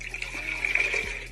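One and a half cups of cold water pour steadily into a blender for Kool-Aid slushies, a continuous close splashing stream with no talk.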